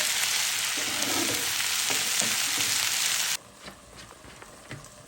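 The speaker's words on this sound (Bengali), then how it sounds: "কেসকি মাছটা বসাই দিব, তেল দিয়ে দিলাম" Tiny kachki fish start frying in hot oil in a pan for chorchori, a loud, steady crackling sizzle that cuts off abruptly, leaving faint kitchen clatter.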